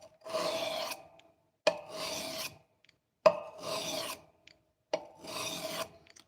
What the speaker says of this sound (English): We're gonna start out with this 400 grit because we're pretty new on this knife here